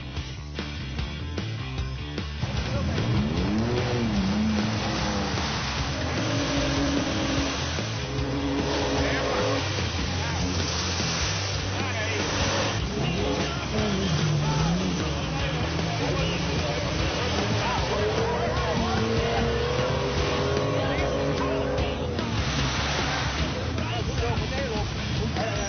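Modded off-road vehicles, including FJ Cruisers, churning through mud in the Dominican Republic, with engines droning and revving continuously up close and rising and falling in pitch under a voice talking over them.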